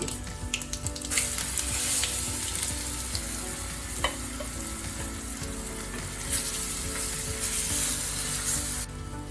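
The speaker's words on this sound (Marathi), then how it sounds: "ही डाळ आपल्याला पूर्ण सुक्की होईपर्यंत परतून घ्यायची" Moong dal roasting in a pan with cumin and asafoetida, a continuous close crackling sizzle broken by occasional stirring scrapes, with no voices.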